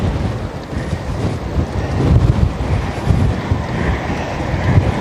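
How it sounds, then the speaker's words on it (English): A strong crosswind, partly from behind, buffets the microphone near a railing with a loud, continuous low roar that swells in gusts throughout. "This is a crosswind slash tailwind."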